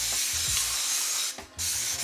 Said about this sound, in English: So what I'm gonna do first is spray this whole thing